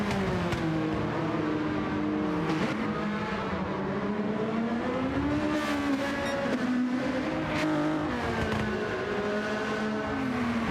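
Race cars lap the Tsukuba circuit, a Porsche among them, their engines droning steadily with rising and falling revs through gear changes and passing cars, sustained and fairly loud throughout.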